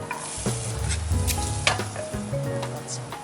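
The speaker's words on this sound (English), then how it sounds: "I've got my onion, my tomato, it's got some garlic, and I've got some butter, and I'm going to saute all of that." Roast beef, potato, onion, tomato and garlic sautéing in butter in a pan inside a campervan cabin, with a steady close sizzle and scraping stir strokes throughout.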